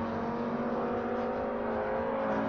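A McLaren P1 engine drones in Forza Horizon 2 as a steady, sustained hum while the car drives, holding an even pitch and loudness throughout with no talk over it.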